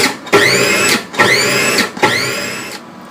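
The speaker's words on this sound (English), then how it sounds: "I've placed the 250 grams of enoki mushrooms into the food processor, and I'm just going to pulse" Three short pulses of a food processor chop 250 grams of enoki mushrooms, each a loud whirring burst that rises in pitch as the motor spins up, then cuts off.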